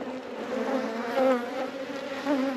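Honey bees swarm and buzz around an opened hive, a dense, close, continuous drone whose pitch swells and wavers as agitated insects circle.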